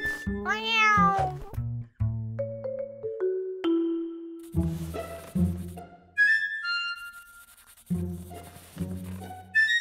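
Cartoon cat meowing in an animated children's show, a series of separate high, bending meows and short mews spread over several seconds, clear and close, with no talk.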